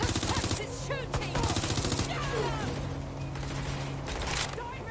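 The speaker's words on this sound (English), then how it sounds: "Suspect is shooting!" Gunfire in the video game Watch Dogs Legion, with rapid bursts and repeated shots crackling close and loud amid game chatter and other effects, while voices shout over the shooting.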